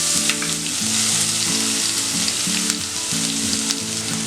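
Grated carrot frying in a pan with mustard seeds and fresh curry leaves, a loud, steady close sizzle throughout, with a low humming tone running underneath and no voices.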